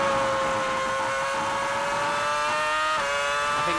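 Formula 1 car from the 2006 season at Silverstone, its high-pitched engine whining steadily as it downshifts a couple of gears into a corner without braking, loud and continuous with pitch stepping at each gear change.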